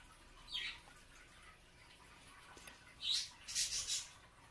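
Faint chirps and squawks from small pet birds indoors, with a short call near the start and a cluster of brighter, sharper calls toward the end over a quiet room background with an aquarium nearby.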